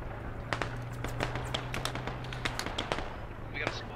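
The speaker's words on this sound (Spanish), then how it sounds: "Están bombardeándolos muy fuerte, eh." Rapid sharp blasts and cracks from bombardment in the game Squad burst repeatedly at a distance, an irregular barrage over a low background hum, with speech mixed in.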